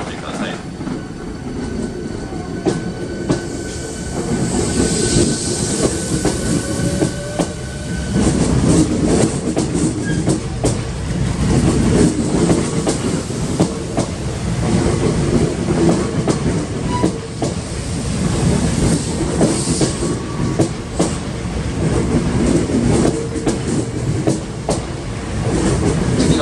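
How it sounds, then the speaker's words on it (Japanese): A Hankyu 1300 series local train bound for Kita-Senri pulls out of Awaji station with a steady rumble and rhythmic wheel clatter, loud and close for about 26 seconds, while station announcements play in the background. "3本目、発車するですね。"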